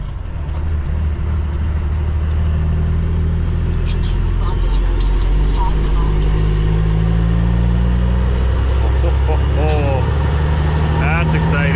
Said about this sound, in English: the sound of the Jake brakes